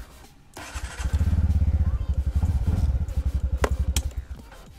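A TVS Ntorq 125 scooter fires up on its electric start with a short cranking burst, then settles into a rapid, even, pulsing putter from its 125cc engine, heard up close with a couple of sharp clicks near the end.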